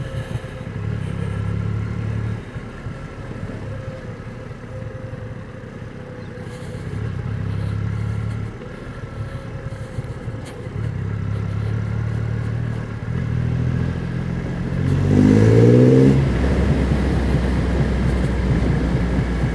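A motorcycle engine drones steadily during a ride, with gear changes and a louder rev surge near the end, close and continuous with no talk.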